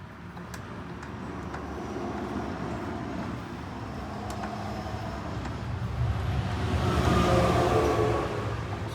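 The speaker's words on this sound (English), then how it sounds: "Sorry about the traffic." Road traffic rolling past an open door on a nice day, a steady broadband rumble that swells louder toward the end as a vehicle passes close, with faint clicks from nearby work.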